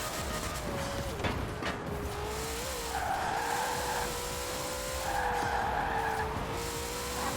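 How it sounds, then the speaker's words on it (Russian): In a racing video game, a car with over 1000 horsepower spins its wheels at around 200 km/h, a sustained tire squeal and skid over steady engine roar, with tonal whines rising and falling. "уже у нее пробуксовка на 200 км в час"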